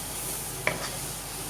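Maggi noodles with chicken masala in a pan give a faint steady sizzle, and one short scrape of a spoon stirring through them.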